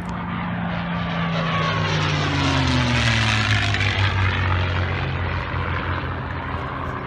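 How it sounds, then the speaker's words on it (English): A loud Rolls-Royce Merlin piston engine on a P-51 Mustang fighter roars past nearby, its drone sliding downward in pitch as the plane flies by and recedes. "Listen to the sound of the Rolls-Royce Merlin engine."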